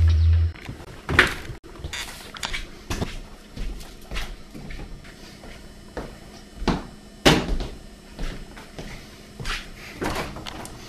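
A refrigerator door swings open and shut amid several close knocks, thumps and clatters of handling, with no talking, in a homemade bottled-water commercial.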